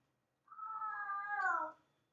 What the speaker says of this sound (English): It's my cat. I just fed them.